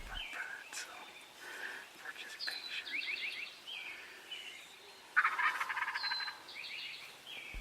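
A wild turkey gobbles in a field, several rattling gobbles at moderate distance, one louder burst near the middle, with soft whispered talk underneath.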